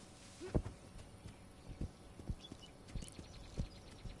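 A stag walks across rough ground in the video game Tchia, its hooves landing in an unhurried clip-clop of sharp, distinct steps, quiet and fairly close.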